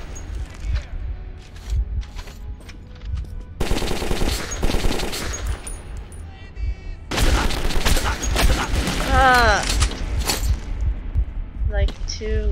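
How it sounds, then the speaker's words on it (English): Bursts of automatic gunfire and heavy shots fill a firefight in the video game Metro, with rapid rattling volleys and booms repeating loudly as a player talks over the action. "I don't see where the guy's shooting me from."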